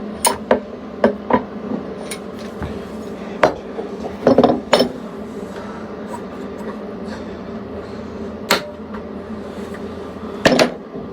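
Clamps come off a wooden grill utensils box in a workshop, giving a scattered series of sharp metallic clinks and knocks at irregular intervals over a quiet background.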